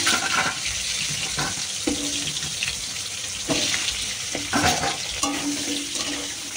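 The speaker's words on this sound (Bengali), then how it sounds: "আলুটা ভেজে নেব।" Potatoes frying in a little oil in a pan at home, a steady sizzle with occasional stirring clatter and brief watery splashes throughout.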